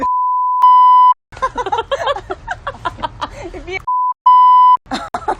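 A loud, pure censor beep sounds in short bursts at the start and again near the end, with lively talking in between.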